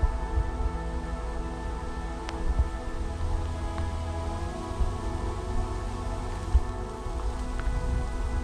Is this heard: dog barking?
no